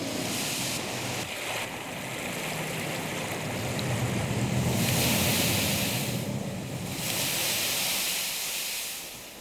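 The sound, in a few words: waves on the shore at Milford Sound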